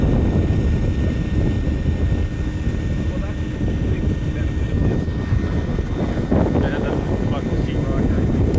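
An insulation blower machine pumps dense-pack insulation into a wall cavity, giving a loud, steady, rushing roar that runs throughout while people talk over it.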